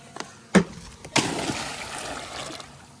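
A Beatbot AquaSense 2 Ultra robotic pool cleaner lands in pool water with a sharp splash, followed by a softer second splash and a stretch of bubbling, sloshing water that slowly fades.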